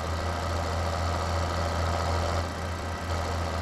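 Tractor engine idling in a farming simulation game, a steady low mechanical rumble with an even throb, constant and close throughout with no talking.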